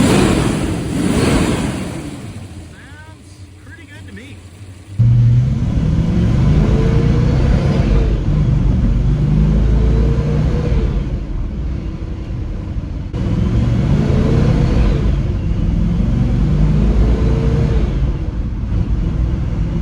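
A freshly rebuilt 1961 Studebaker Hawk engine drones steadily with road and wind roar at highway speed, loud and close, with a quieter stretch at the start.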